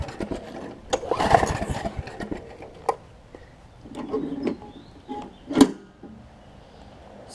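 A Snapper RER riding mower engine struggles to start, giving several brief sputtering cranking bursts separated by quiet gaps, never catching into a run.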